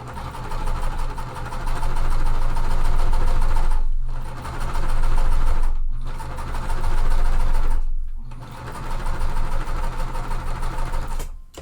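A sewing machine stitches quilt seams for a cotton mystery quilt. Its fast, loud mechanical whir runs in four long bursts, each separated by a brief pause, with no talking.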